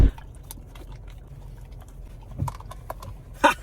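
A dog messily eats a pup cup inside a car, with soft wet chewing, licking and lapping sounds, close and fairly quiet, punctuated by a few brief knocks.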